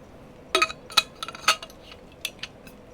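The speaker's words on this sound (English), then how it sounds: "Here's me drinking said water." Several sharp, close glass clinks and taps as a streamer drinks water from a glass, scattered irregularly over a few seconds against a quiet background.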